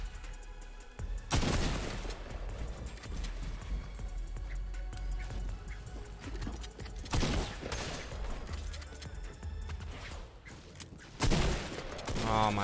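Video game gunfire comes in three sharp, loud bursts spread across the clip, each a short cluster of shots, over a steady background of game noise.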